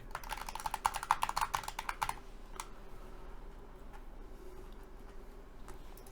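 Rapid clicky typing on a Razer mechanical keyboard fitted with O-ring dampeners, soft, muted keystrokes, a dense flurry for about two seconds, then sparse isolated taps over a quiet background hum.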